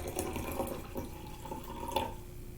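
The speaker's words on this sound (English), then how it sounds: "So I'm going to put 3/4 cup of vinegar in both of them just to be fair" White distilled vinegar, three-quarters of a cup, is poured into glass jars for an egg experiment. The liquid gives a continuous close trickling pour with a few small splashes.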